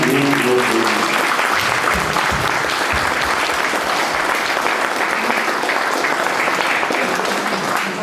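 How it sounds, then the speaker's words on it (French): An audience applauds volunteers at the inauguration of a local radio station in Maromme, loud, dense clapping that holds steady for several seconds with a few voices faintly mixed in. "je vous invite vraiment tous ensemble à ce qu'on les applaudisse, tous ces bénévoles qui ont aménagé ce lieu"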